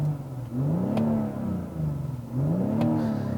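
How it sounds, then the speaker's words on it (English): A 2018 BMW X3 M40i six-cylinder engine revs up twice in rising and falling sweeps, heard close and fairly loud, with idle between the blips. "It's a nice sounding engine"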